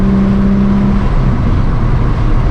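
Bone-stock Nissan 350Z with a manual gearbox pulling hard on a backroad, its engine note loud and close from inside the cabin, a steady droning roar that climbs slightly while accelerating.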